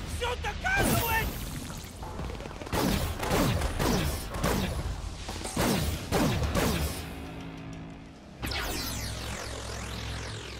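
Gunfire and superpower blasts from the video game Infamous First Light, heard as a run of loud whooshing, crashing bursts at irregular intervals with talk mixed in.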